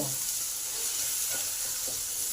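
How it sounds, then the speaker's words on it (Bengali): Turmeric and cumin powder frying with tomato in a pan, an even dense sizzle with faint stirring scrapes, close and steady throughout, with no voices. "একসঙ্গে এই হলুদ জিরে গুঁড়ো টমেটোর সাথে ভেজে নেব"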